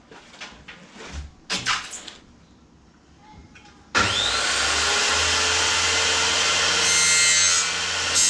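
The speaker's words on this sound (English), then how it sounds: "here I am with my circular saw cutting this board" A circular saw cuts a wooden board while trimming its edge for a coffee table build. After some quiet handling knocks and scrapes, the saw starts loud and close and whines steadily through the cut.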